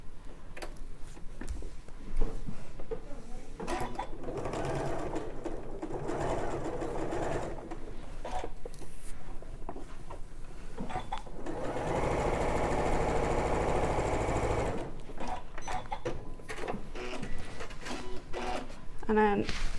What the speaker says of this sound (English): I'm just going to sew 1/4 inch. Keep that seam flat and open.